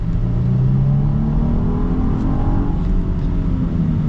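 Genesis GV80 SUV in sport mode accelerating: a steady engine drone with a rising tone and tyre rumble, heard continuously from inside the cabin, loud, with no talk.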